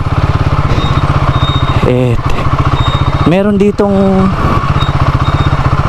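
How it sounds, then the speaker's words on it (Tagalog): A motorcycle engine on a muddy road in the Philippine town nearest Taiwan, chugging with a steady close-up rhythmic throb throughout while people talk briefly over it. "Uy, may nakamotor dito."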